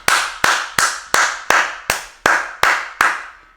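Nine sharp, evenly spaced hand claps from a single pair of hands, close and loud, each ringing out briefly before the next, with no other sound around them.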